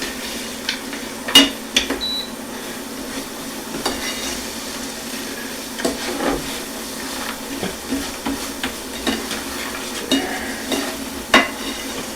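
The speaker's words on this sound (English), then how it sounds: "turn them over a little bit, just to make sure that all the sides get covered with your sugar cinnamon mixture" Almonds are stirred and turned in a crystallizing sugar-cinnamon coating in a pan, a faint low sizzle broken by scattered light scraping and clinking taps, with no voices.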